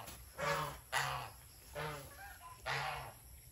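Chickens being fed termites on a farm give off a few soft, distant clucks and calls, four brief fowl sounds spaced over a few quiet seconds.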